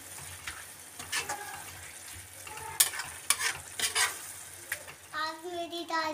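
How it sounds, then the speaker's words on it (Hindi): Potatoes and fenugreek leaves fry in a pan while a spoon stirs and scrapes, soft sizzling under intermittent clinks and scrapes, with a voice briefly audible near the end. "फिर उसके बाद डालेंगे आलू।"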